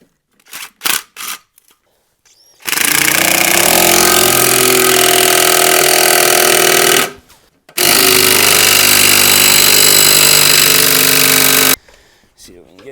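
A small helper jack is used under a Nissan G35, its loud motorized whirring running in two long, steady stretches of about four seconds each, close up, with a few brief knocks before.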